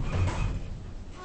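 Sliding doors of a 2012 Otis Gen2 Selecta elevator in a shopping centre open with a brief, close mechanical rumble and clunk that fades quickly.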